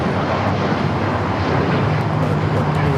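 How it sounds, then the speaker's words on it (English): A United Airlines Boeing 737 MAX 8 takes off at LAX, its jet engines a loud, steady, close roar that fills the whole stretch without letting up. "This takeoff is United Airlines"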